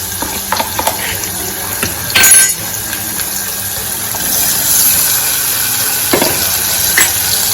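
Gunda pieces tipped into hot oil and stirred for Gujarati gunda sambharo, giving a steady broadband sizzle with a brief louder splash as they go in, then continuous frying and stirring noise.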